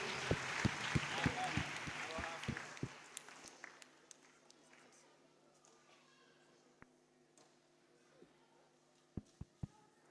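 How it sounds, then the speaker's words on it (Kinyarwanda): A church congregation claps at a choir service, a burst of dense applause that thins into scattered claps and fades, followed by a quiet room with a few sharp knocks near the end. "Tubakomera amashyi mu izina rya Yesu."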